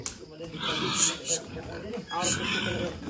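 An 81-kilo pig being readied for slaughter for lechon squeals and grunts in loud, close bursts, with voices talking over it.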